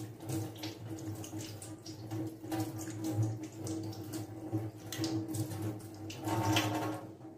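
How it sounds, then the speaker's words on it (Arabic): Raw chicken parts being rinsed under a running kitchen tap, a steady broadband gush of water with splashing and shifting flow as the pieces are turned, continuous and close throughout. "فلازم نغسلها كويس جدا وتحت المية"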